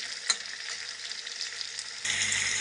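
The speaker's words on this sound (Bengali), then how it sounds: "লবণ দিয়ে এবার আলুটা ভালোভাবে ভুজে নেবো" Salted potatoes fry in a pan with a continuous close sizzle and occasional stirring. The frying swells louder and fuller near the end.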